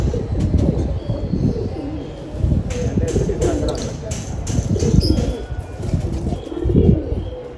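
Domestic pigeons landing after a storm coo in low, throaty rolls, with bursts of wing flapping close by, several birds together.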